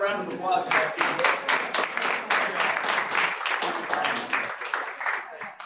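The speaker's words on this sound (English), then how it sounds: "How about another round of applause?" An audience applauds at a gathering honoring a fire chief, with a brief voice at the start before a dense, sustained burst of clapping that stays loud throughout.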